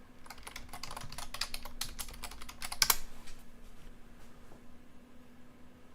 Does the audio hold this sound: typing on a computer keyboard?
yes